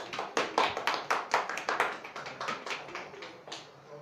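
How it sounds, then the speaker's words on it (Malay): Students and staff at a secondary school prefect appointment assembly clap in a scattered, sparse round that gradually thins and fades, with individual hand claps distinct. "berikan tepukan yang paling gemuruh"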